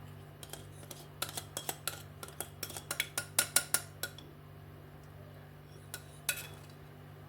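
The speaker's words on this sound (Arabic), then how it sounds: "نصفي الخليط." Kunafa mixture is strained through a sieve: clustered metallic clinks and scrapes of a utensil against the mesh, close and sharp over a low steady hum, then a few scattered taps.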